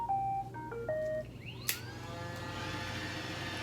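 A robot vacuum cleaner starts with a short series of rising electronic beeps, then settles into a steady whirring hum of its motor and brushes, running close by without talk.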